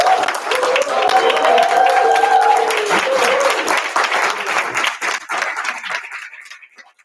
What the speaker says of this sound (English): can we hear one big round of applause again for these people?